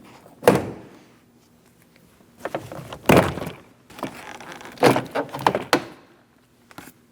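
Plastic clips pop and snap as a trim tool pries a rear door panel loose on a 2003-2007 Cadillac CTS, several sharp cracks and rattles separated by short pauses.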